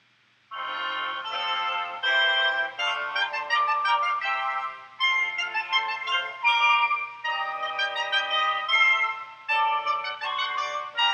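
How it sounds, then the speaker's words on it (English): Woodwind section with flutes playing together in an instrument lesson, a bright layered blend of sustained and moving tones in several short phrases, alone and fairly close. "Together, the woodwind section sounds like this."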